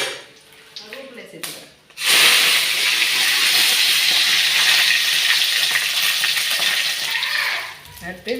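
Mustard seeds and dried chillies hit hot oil with a sudden loud hissing sizzle that holds steady for several seconds, after a brief quieter stretch with a voice at the start.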